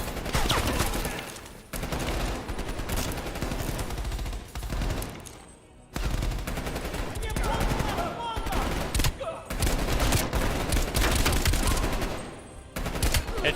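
Sustained automatic gunfire during Call of Duty Black Ops Cold War campaign combat, loud and nearly continuous bursts broken by a few brief pauses, dense and close.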